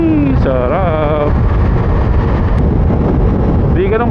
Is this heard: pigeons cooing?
no